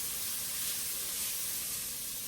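Diced yellow onion sizzles in a hot pan, a steady, close, bright hiss that holds unbroken with no talking over it.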